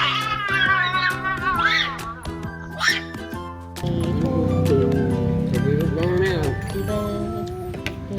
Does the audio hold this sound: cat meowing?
yes